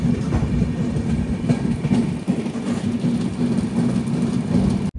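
The AP Express 20805, running from Visakhapatnam to New Delhi near Warangal, gives a loud, continuous rumble of a moving train with steady clickety-clack wheel beats throughout, and no voices.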